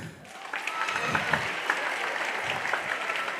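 An audience at a Living Arts Centre event claps together, a dense, continuous wash of applause that holds steady for several seconds with no speech over it.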